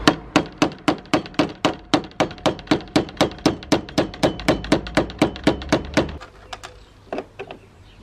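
A hammer strikes the door of a Citroën 2CV about twenty times in a fast, even series of sharp metallic blows, close and loud, then a couple of lighter taps follow after a brief pause.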